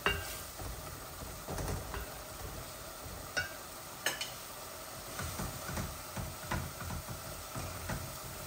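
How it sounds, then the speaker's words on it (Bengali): Mrigal fish frying in hot oil in a pot, a soft steady sizzle broken by scattered clicks and light taps of a utensil against the pot, fairly quiet and close. "মাছটা প্রথমে ভেজে রাখছি, হাঁড়িতে তেল উঠে যাবে বলে।"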